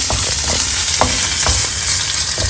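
Chopped ginger and chili fry hard in hot oil in a pan, a loud continuous sizzle broken by repeated scraping stirs, close and with no voices.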